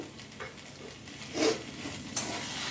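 A spatula stirs potato stuffing mixed with tomato sauce and kasundi in a pan, a soft continuous sizzle broken by a few louder scraping strokes, with no voices.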